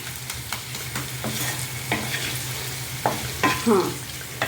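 Raw banana pieces fry in a pan with coriander powder, giving a soft steady sizzle. Close scraping strokes of a spoon stirring the mixture recur every second or so, with no voices.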